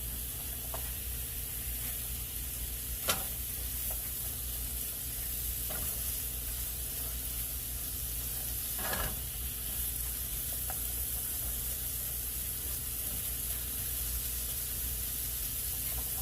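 Apple fritters sizzle steadily in a pan of hot rendered lard, a continuous close crackle broken by a few sharp clinks and scrapes as they are stirred and turned.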